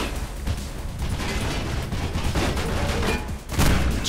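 Shotgun blasts in Mirror's Edge amid dense, loud combat noise, with booming shots layered over constant gunfire and a heavier blast near the end.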